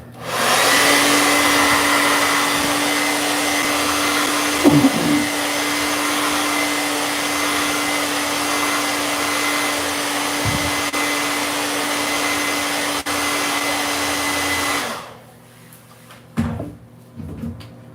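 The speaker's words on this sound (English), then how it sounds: "I'm going to blow dry it in between." A hair dryer blows steadily on a primer coat over a fiberglass tub wall repair, a loud continuous whoosh with a constant hum lasting about fifteen seconds before cutting off, followed by a few faint handling knocks.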